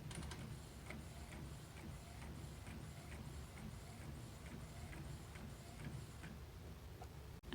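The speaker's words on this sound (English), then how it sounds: "So I'm going to start printing these out" A printer runs steadily while printing zine pages, giving a continuous low mechanical hum with a faint regular ticking rhythm throughout, and a brief clunk at the very end.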